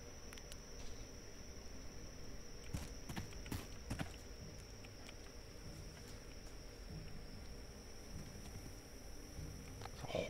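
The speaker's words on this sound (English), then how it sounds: "Horse moving." Horse hooves walking in a video game, faint steady clip-clop footfalls under a constant high-pitched hiss and background ambience, with a few sharper knocks scattered through.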